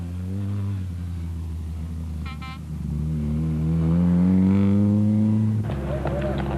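A 1988 rally car engine idles with a low steady rumble while the car has problems, rising slightly in pitch midway, heard up close with a faint voice in the background.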